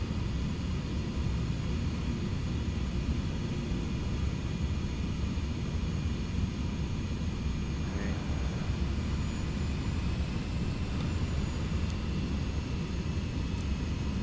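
Pilatus PC-6 engine in the MSFS 2024 flight simulator, throttled back as the aircraft slows and side-slips toward a short airstrip in Papua; a steady, continuous drone with a broad rumbling hiss throughout.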